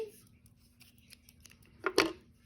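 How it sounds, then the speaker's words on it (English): Scissors cutting crochet yarn: a couple of faint snips early on, then two sharp, close cuts near the end in an otherwise quiet room. "And I cut my yarn"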